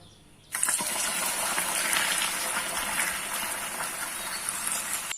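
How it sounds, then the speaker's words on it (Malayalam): Half a cup of water poured into a hot pan while making payasam bursts in suddenly after a brief quiet moment, then holds as a loud, close, steady hiss and sputter that continues to the end. "ഇനി നമുക്കിതിലേക്ക് ഒരു അരക്കപ്പ് വെള്ളം ഒഴിച്ചു കൊടുക്കാം"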